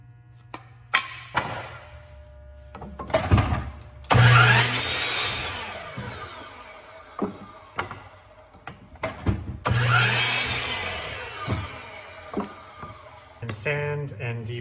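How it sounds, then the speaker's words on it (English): A miter saw trims wood pieces for an epoxy resin mold, two loud spin-up and cutting bursts with the motor whining down afterward, set among clattering handling sounds and speech between cuts. "So we're just gonna do a quick trim on the miter saw."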